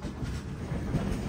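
A passenger train leaves Kalyan Junction on the Mumbai to Pune line, heard from on board as a low, steady rumble of wheels and carriage.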